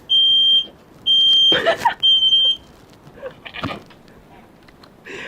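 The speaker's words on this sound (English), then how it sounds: "Let's make a fire alarm test" A shrill, piercing smoke alarm beeps in three long bursts during a fire alarm test, loud and close, followed by rustling, movement and faint voices.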